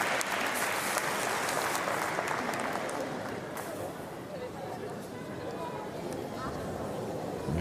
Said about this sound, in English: So a round of applause from the crowd.